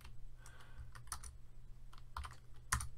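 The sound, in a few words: typing code on a computer keyboard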